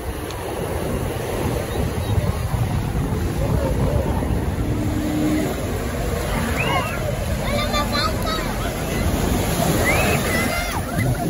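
A motorboat near the beach at Bahía de Kino, Sonora, its engine drone mixed into steady surf and wind noise, with distant voices and shouts in the background.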